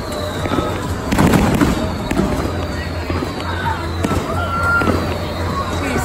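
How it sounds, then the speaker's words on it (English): Fireworks bursting outdoors at a public display, several sharp pops and booms against a steady crowd murmur, loud and fairly close. "if you're watching the fireworks"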